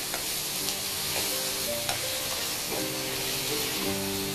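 Mussels fry in a hot pan with chilli powder and turmeric, a close, dense sizzle and hiss running throughout with faint scraping stirs and occasional clicks.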